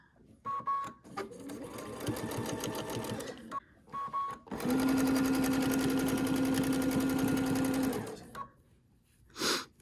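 A sewing machine doing free-motion quilting with a clamshell ruler runs in short stop-start bursts, then in one long steady stitching run, loud and close, with quiet pauses between.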